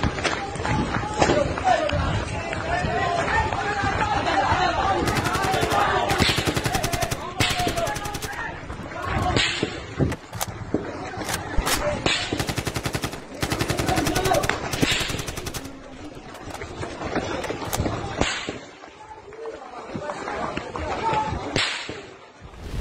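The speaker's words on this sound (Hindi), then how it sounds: "इस वीडियो में आप लोगों की भगदड़ और बंदूक की गोलियां सुन" Rapid bursts of gunfire crack repeatedly over a loud, chaotic scene in Myanmar, with shouting and commotion of people fleeing throughout.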